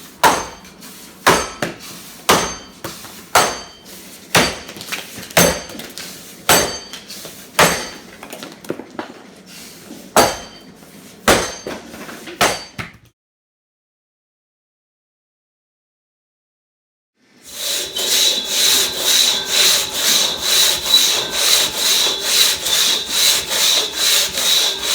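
A Brute Forge axe bites into a log in underhand chops, about a dozen sharp woody thunks at a steady rhythm, then a few seconds of silence followed by a loud, pulsing sawing or rubbing noise.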